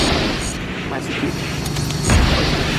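A grenade goes off in a film scene: a low, heavy boom lands near the end and swells out of an already loud, noisy soundtrack.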